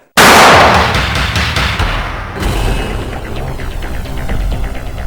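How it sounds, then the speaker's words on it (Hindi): Gunfire from behind trees in a Pakistani TV drama: a loud sharp shot bursts out at the start, followed by rumbling, thudding reverberation and scattered fainter cracks, with no talking. "गोलियों की आवाज सुनी तुमने?"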